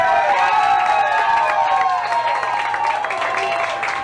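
Crowd inside a Cuban sandwich shop in Las Vegas applauding and cheering, a loud, busy mix of clapping and voices that carries on without a break.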